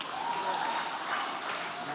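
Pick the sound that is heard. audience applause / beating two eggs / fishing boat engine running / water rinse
audience applause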